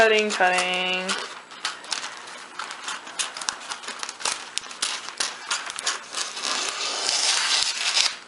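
Scissors snip through a cellophane sheet while moulded roses are being made, giving a rapid series of close, crisp cuts and crinkles. A short voice is heard at the start.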